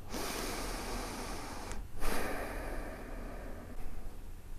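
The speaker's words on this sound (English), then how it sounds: "Sit back, relax, take a slow deep breath." A slow, deep breath drawn during a relaxing EFT tapping session: a long, soft, airy rush that briefly drops away near the middle, then swells again, close and steady with no talking.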